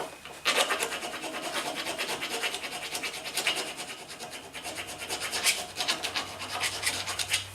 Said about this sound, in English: It's going to get a good old round file.